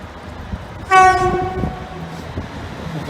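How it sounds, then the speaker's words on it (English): A train on the East Coast Main Line diversion via Lincoln comes closer and sounds a loud, clear horn blast of about a second, then runs on with the rumble of rolling wheels. No voices. "one of the trains we're waiting for is now approaching."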